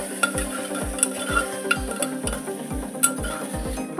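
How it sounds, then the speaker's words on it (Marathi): Ginger garlic paste, with softening tomato, fries in a pan as a spoon scrapes and knocks in a quick, regular stirring rhythm over a continuous close sizzle. "ह्याच्यामध्ये 1 चम्मच अद्रक लसूणची पेस्ट ऍड करायची। सगळं व्यवस्थित भाजून घ्यायचंय।"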